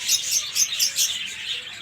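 Birds chirp and tweet around a home kitchen garden, with bright, repeated high calls in a steady rhythm at moderate distance. No one is speaking.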